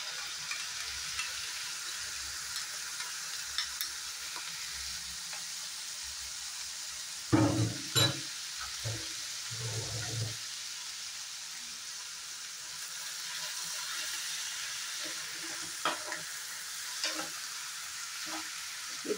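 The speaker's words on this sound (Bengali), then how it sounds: "এই দইটার সাথে আবার মশলাটা ভালো করে 2 মিনিট ফ্রাই করে নেব।" Spice paste and whisked yogurt sizzle gently in a pan for a chicken dish, with a soft, continuous frying hiss and a few louder scraping stirs of a spoon near the middle.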